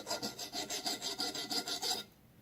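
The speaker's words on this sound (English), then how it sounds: "rotating the valve from the back side while filing it from this side" An engine valve from an old Chevrolet C-10 being filed as it turns, about a dozen quick, even rasping strokes close by that stop abruptly near the end.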